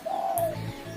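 A zebra dove, the perkutut songbird, gives a short, close, clear coo that is a single drawn-out note followed by a brief low tail, all within one second.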